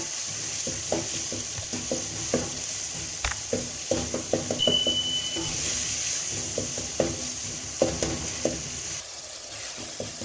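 Spices for githeri fry in a pan while being stirred, a steady sizzle broken by repeated close scraping and tapping strokes of the spoon.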